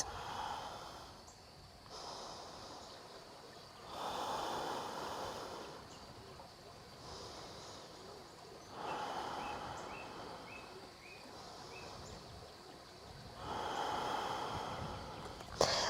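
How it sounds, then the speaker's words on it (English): Slow, deep breaths during a morning yoga session, about four long inhale-exhale cycles heard close and soft, each swelling then fading, with faint background ambience between them. "3 deep breaths"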